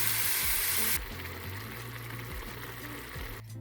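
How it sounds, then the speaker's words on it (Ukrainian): Mushrooms sizzle loudly in a frying pan as their water cooks off. The bright, steady hiss is strongest at first, then softens slightly and continues close up under a faint low hum. "Воно шкварчить зараз, вода уйде, почнуть підсмажуватися грибочки"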